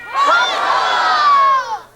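A crowd at a live stage show lets out a single loud, lusty cheer. It swells quickly, holds for about a second and a half and then fades, with many voices shouting together.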